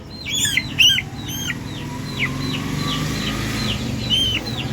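Several chickens cluck and chirp nearby in short bursts on a poultry farm, over a low steady hum of background noise.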